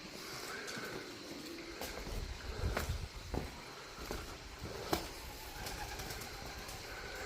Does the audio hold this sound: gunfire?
no